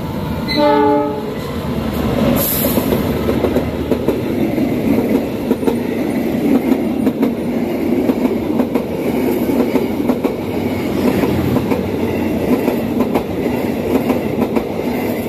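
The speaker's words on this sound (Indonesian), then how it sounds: "Ini dia kereta api Baturaden Express." The Baturaden Express passenger train on the Bandung–Purwokerto route sounds a short horn, then rumbles past up close with a steady, loud clatter of wheels on rails.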